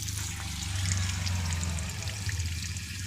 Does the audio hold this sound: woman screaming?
no